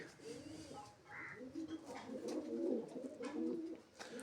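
Pigeons coo in soft, repeated low warbles around a loft where they are fed soil, the throaty calls overlapping close by over a faint background murmur.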